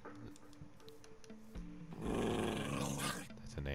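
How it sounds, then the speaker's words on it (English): An angry dog in a video game growls in a low, rough rumble that swells in the second half, heard over game sounds and some background music. "That's an angry dog."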